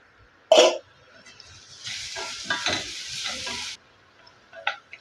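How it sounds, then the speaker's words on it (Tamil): Drumstick pulp stir-fry (murungakkai poriyal) being stirred and sautéed in a pan, with a sharp clatter near the start followed by a few seconds of steady frying hiss and scraping, then quiet. "இது அஞ்சு நிமிஷம் சிம்மில் போட்டு நம்ம வதக்கி எடுத்துக்கிறலாம்"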